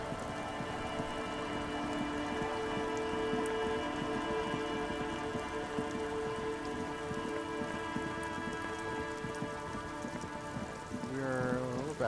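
Steady rain patters on surfaces in the video game Disco Elysium, a soft continuous hiss that stays faint beneath sustained ambient game music tones.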